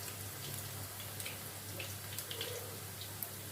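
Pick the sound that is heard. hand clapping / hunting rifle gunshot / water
water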